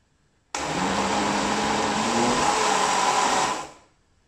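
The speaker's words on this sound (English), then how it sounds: "We'll now whisk our mixture." An electric blender or stick mixer whirs a spicy chili sauce mixture, starting abruptly and running as a loud, steady high whine for about three seconds before winding down.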